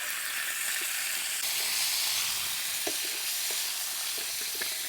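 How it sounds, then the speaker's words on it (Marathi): Cumin and green chillies fry in hot oil, making a steady, bright sizzle with a few soft stirring clicks, close up and without talk. "जिरे चांगले तळून निघले तर मिरच्या टाकू"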